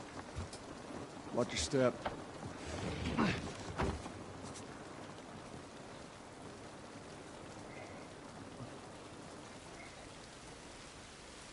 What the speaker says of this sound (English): this looks like real fucking rain. It's raining.